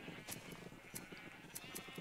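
Minecraft sheep bleat in short, repeated calls at a steady pace over a faint, quiet background on a sheep farm in the game.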